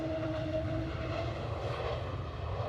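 An airplane at Edinburgh Airport gives a steady, continuous engine roar with a low rumble, heard outdoors at a moderate distance and with no voices.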